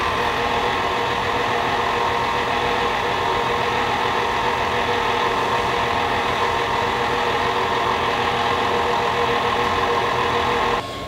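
Stand mixer fitted with a paddle beating chocolate chip cookie dough, a steady loud motor hum running unbroken and alone until a slight drop at the very end.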